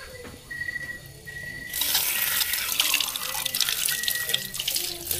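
Water runs from a sink faucet at the Lupang Dalisdis campsite in Liliw, Laguna. It starts as a light trickle and then swells into a loud, steady hiss of splashing water for the rest of the clip.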